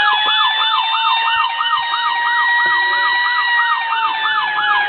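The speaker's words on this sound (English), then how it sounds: "Here's the Federal sound" A Federal electronic siren wails continuously from a custom Franklin Mint E-One rear-mount ladder model fire truck, its steady rising-and-falling whoop cycling rapidly and loud throughout with no talking.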